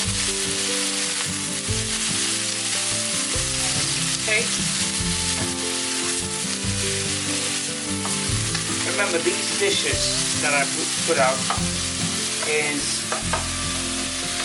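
Chilies sizzle and are stirred in a hot pan while cooking for a mussels chilli fry, a loud, continuous frying hiss with scraping and clatter. A person talks over it.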